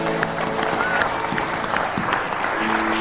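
A studio audience at a Pakistani quiz show bursts into sustained applause for Major Raja Aziz Bhatti, a dense, steady wash of many hands clapping with a faint voice underneath.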